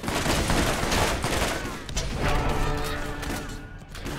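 Rapid bursts of weapon fire from a Borderlands shooter, loud and sustained across the whole stretch with crashing impacts, easing slightly toward the end with no talk over it.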